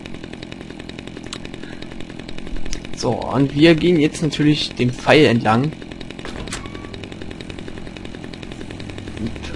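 A chainsaw roars steadily in Dead Rising 2, an even buzzing drone under someone speaking in German.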